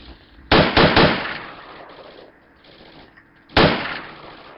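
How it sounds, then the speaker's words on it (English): Gunfire in the tactical shooter game Project Reality: a loud close burst of several rapid shots, then quieter distant crackles, and another sharp burst near the end, with no talking. "He's shooting me."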